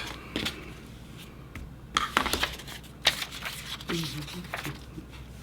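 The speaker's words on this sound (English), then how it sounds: "I'm just gonna line this strip up and I'm just cutting rectangles today" Scissors or a rotary cutter slicing fabric strips into rectangles for a quilt paper-piecing block, heard as a few short crisp cuts and rustles of cloth at close range, scattered through the clip with light handling noise.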